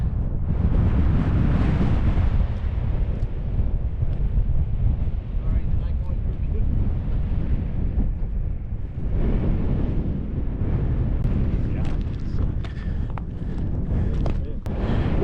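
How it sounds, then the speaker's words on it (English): Strong wind on a mountain trail buffeting the microphone: continuous low roaring gusts that swell and ease throughout, with a harder surge in the second half. "A little windy"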